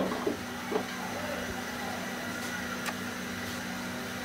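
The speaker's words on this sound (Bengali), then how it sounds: "এখন আমি এগুলাকে ভেজে নিই" Golgola pitha, sweet wheat-flour batter balls, frying in hot oil: a steady, even sizzle with a few soft pops near the start, continuous throughout.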